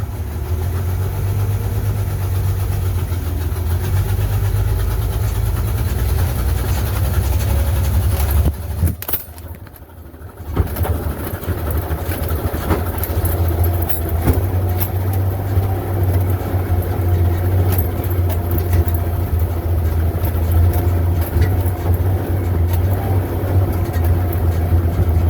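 A fifty-year-old red farm truck, Big Red, runs steadily and loudly as it climbs the hill that broke its drive shaft earlier, with a deep engine drone and a brief dip partway through.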